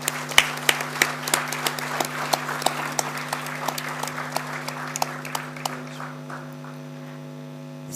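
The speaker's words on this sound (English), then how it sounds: "I would request the audience to please give a round of applause." An audience at the NASA India architecture students' general body meeting at IPS Academy breaks into a round of applause, many sharp claps in a steady patter over a constant electrical hum, thinning out and fading toward the end.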